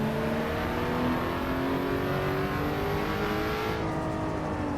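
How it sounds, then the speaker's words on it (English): An Assetto Corsa Evo race car engine drones at high revs with a rising pitch, a steady loud roar that fits tyres running over rumble strips. "rumble strips don't sound that amazing"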